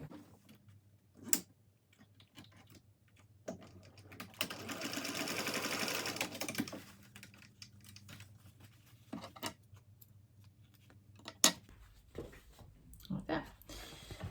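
A sewing machine runs a short basting stitch across backpack pleats, a rapid, steady whirring burst lasting a couple of seconds, surrounded by scattered clicks of fabric handling and quiet talk.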